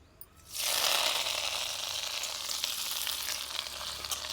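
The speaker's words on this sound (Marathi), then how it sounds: "आता ह्याच कढईमध्ये थोडंसं अजून तेल टाकायचं आहे, भाजून घ्यायचं आहे" Curry leaves dropped into hot oil in an iron kadhai burst into a loud, steady sizzle that starts suddenly and keeps crackling without pause.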